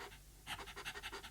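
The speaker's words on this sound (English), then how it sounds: "I can hear something breathing, but it isn't making any other sound." A furry monster breathing inside a box, heard as quick, rhythmic panting breaths, about eight soft huffs in a steady series, faint and close, with no other sound.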